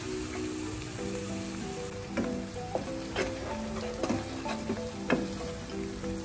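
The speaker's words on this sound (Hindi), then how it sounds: "अदरक लहसुन भी अच्छी तरह से भुन चुका है" Coarsely crushed ginger and garlic sizzle steadily with onions in a pan, a continuous frying hiss broken by occasional clinks and scrapes of stirring.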